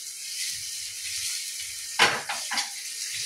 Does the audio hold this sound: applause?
no